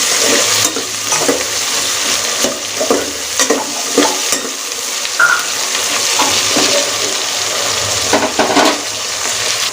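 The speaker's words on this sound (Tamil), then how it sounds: "இதே ஒரு ஃபைவ் டு டென் மினிட்ஸுக்கு நல்லா வதக்கி விட்டுக்கலாம்" Tomatoes, onions and green chillies sauté in a pan for chicken tikka biryani, with a loud continuous sizzle close by and scattered scrapes of stirring throughout.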